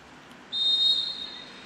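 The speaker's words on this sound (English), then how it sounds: "There's a whistle to start the second half" A referee's whistle at an under-20 football final sounds one sustained, piercing blast of about a second, sharp and clear over faint crowd ambience, then tails off.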